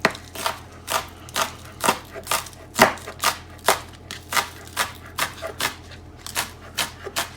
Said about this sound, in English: And just continue on chopping as you go.